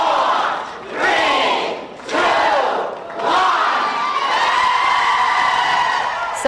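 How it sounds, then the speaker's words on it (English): A crowd cheers and shouts loudly at a ribbon cutting for a reopened Macy's store at Warwick Mall, with repeated swelling roars and whoops that build into sustained cheering. "Crowds cheering as officials cut the ribbon on the newly revamped Macy's"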